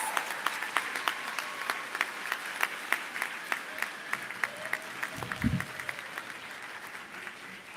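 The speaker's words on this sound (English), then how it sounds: "So let's turn around and give your friends and family a big applause." Applause at a medical school commencement ceremony for graduates' friends and family, many hands clapping steadily in a large hall at moderate distance, with a brief low thump partway through.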